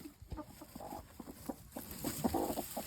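A broody hen sitting on guinea fowl eggs gives soft, irregular clucks and low murmurs nearby on a small farm, with no speech over them.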